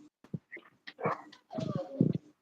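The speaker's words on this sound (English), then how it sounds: "if you guys hear a sound that sounds like a dog caught in a blender, that's just my dog" A dog whines and whimpers in short, strained bursts, rising into a longer squealing cry near the end.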